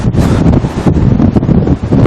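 Strong wind buffets the microphone atop Sydney's Centrepoint Tower, a steady loud roar with gusty rumbling and no voices.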